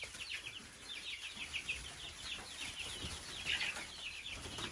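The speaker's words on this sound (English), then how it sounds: "These chicks are starting to explore" Young chicks cheep and chirp in a chicken yard, a busy overlapping chorus of small high calls with soft rustling and a flutter, moderately close and steady.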